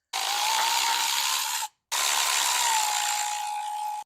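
A ratchet wrench works loose 12mm and 14mm bolts on a KTM RC 390 motorcycle, producing two long runs of rapid, continuous pawl clicking, loud and close, split by a brief silent pause.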